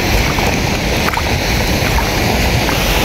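Footsteps wading through cold floodwater on a rain-soaked street in Madinah, with continuous close sloshing and splashing and a broad wet rush.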